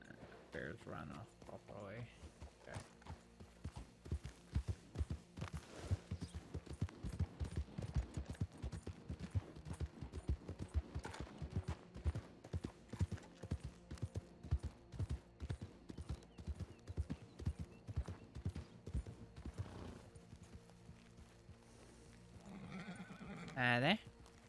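A horse's hooves clip-clop in a steady galloping rhythm in a Red Dead Western video game, with a neigh at the start, people talking over the footfalls and a louder burst near the end.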